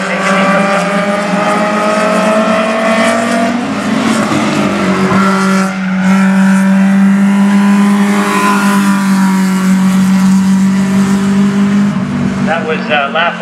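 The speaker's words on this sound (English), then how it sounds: "Now he's going to pound on the gas and try and take the lead from the top." Ministock race car accelerating hard around a track on a record-attempt lap, a loud, sustained engine drone with a shifting pitch that holds steady throughout, with a commentator's voice running underneath it.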